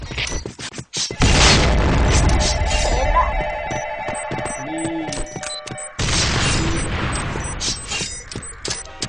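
A grenade's heavy boom bursts out amid rapid gunfire in the shooter game Point Blank, followed by a noisy rumbling tail and more shots; loud and close, with no talking.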